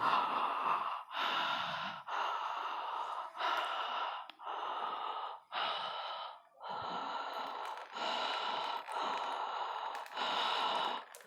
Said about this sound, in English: But if you want to, you do oral breathing.